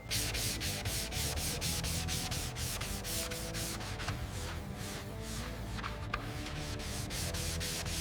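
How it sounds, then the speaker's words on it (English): Sandpaper of 400 grit rubs paint off an old 1973 Kawasaki Z1 fuel tank, a close, steady back-and-forth scratching with fast regular strokes that slow slightly later on. "we're starting with a 400 grit on this old Z1 tank"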